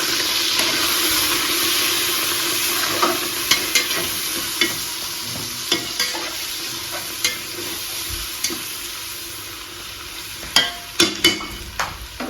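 Onions sauté with ginger-garlic paste, mint, coriander and green chilies in a hot pan for prawn biryani, a steady loud sizzle and hiss with a spatula stirring and scraping in regular taps.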